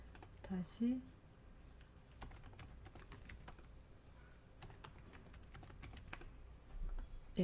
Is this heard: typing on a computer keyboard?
yes